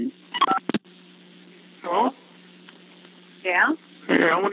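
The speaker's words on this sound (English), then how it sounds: "To accept this call, dial 5 now." Telephone keypad tones from a collect-call menu, a few short tonal bursts sounding over a steady line hum, with recorded voice prompts around them.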